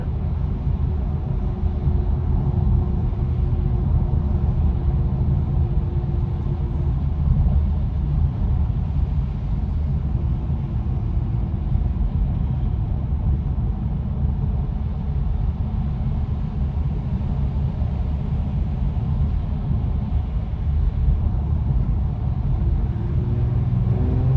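Low, steady engine rumble from a Genesis G70 fitted with BMS air intakes, heard from inside the car while driving, a continuous drone with little change in loudness.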